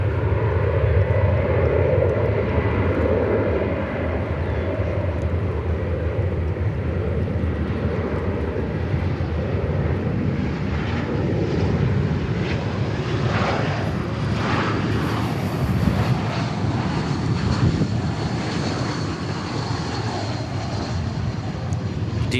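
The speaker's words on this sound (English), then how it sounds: "DGO arrival on the A320." An Airbus A320 arrives at Dallas Fort Worth airport, its engines a steady, broad roar that holds loud and close for the whole stretch with no break, faint higher whine riding over the rumble.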